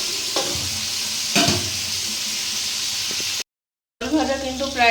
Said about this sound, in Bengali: এবার কিন্তু আমি পটলগুলোকে সব ভেজে ফেলবো।